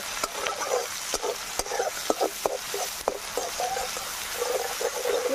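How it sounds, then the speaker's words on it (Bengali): Chopped onions fry in hot oil with bay leaf and whole garam masala, a steady close sizzle broken by repeated scraping stirs of a spatula against the pan, with no voices. "পেঁয়াজটা ভালো করে একদম ভেজে নেব।"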